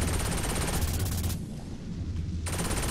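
Flaming-bullet gunfire from a weapon in the video game Saints Row 4 roars in a dense, continuous automatic burst. The sound is loud and close, with a brief dip in the middle.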